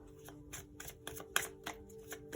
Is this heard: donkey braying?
no